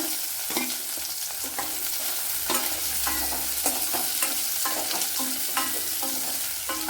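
Sliced onion and chili fry in oil for a Kerala-style pumpkin curry, with a constant close sizzle and repeated clinks and scrapes of a spoon stirring the pan, and no talking.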